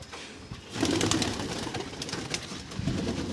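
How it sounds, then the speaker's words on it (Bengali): A flock of pigeons bathing together in a new coop coos steadily and close, with a broad wash of fluttering and splashing throughout. "সব পায়রাগুলো একসঙ্গে সব স্নান করছে"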